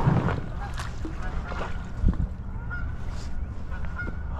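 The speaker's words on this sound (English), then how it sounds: "Just a few mallards and geese." Geese honking repeatedly in a busy flock among mallards on a shallow stream, with nearby splashing and water noise underneath.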